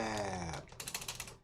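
Computer keyboard typing a short terminal command: a quick run of close, light key clicks after a spoken word, which briefly overlaps the start.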